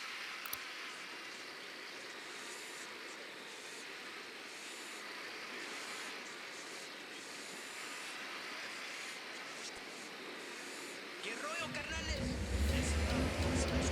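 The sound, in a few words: drone flying, from video game Ghost Recon Wildlands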